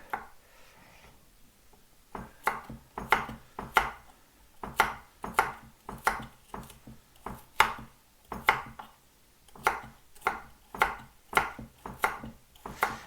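Knife chopping carrot on a cutting board, a quiet run of crisp, evenly spaced knocks, roughly one every half second, each sharp and close with brief pauses between strokes.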